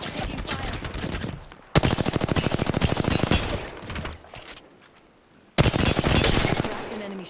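Rapid automatic gunfire in a military shooter video game comes in two loud, sustained bursts of dense rattling shots, separated by a quieter lull with softer background sounds.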